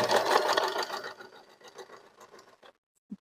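A sewing machine stitches elastic onto cloth in a rapid, close burst of mechanical whirring that slows into sparse clicks, followed by a final short tap.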